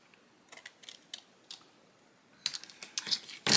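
Paper edges of a handmade gift card holder are trimmed, with a few light, crisp snips and clicks at first, then a louder cluster of cutting sounds close by.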